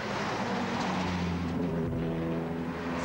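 A rally car at the 1997 San Remo Rally drives past, its engine a loud sustained drone that shifts in pitch as it goes by, with no talk.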